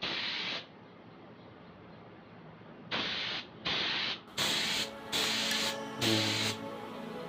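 A paint spray gun coating stock motorcycle mag wheels fires in repeated hissing bursts, each lasting under a second, loud and close, separated by brief pauses.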